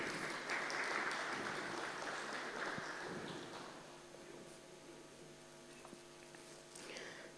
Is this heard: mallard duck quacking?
no